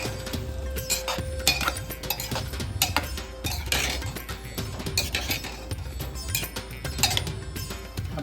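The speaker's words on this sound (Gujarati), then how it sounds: "બધી વસ્તુને સારી રીતે હલાવી લો" A Gujarati pigeon pea and eggplant curry mixture being stirred in a cooker, with repeated metal spoon clinks and scrapes against the pot, close and steady throughout.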